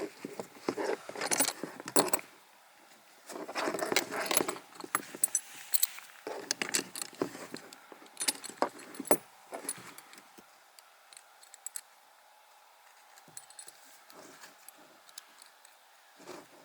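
Metal buckles and hardware on a Vietnam P68 lightweight rucksack jingle and clink in close, irregular bursts as a strap is fastened, followed by quieter scattered taps and a near-silent stretch.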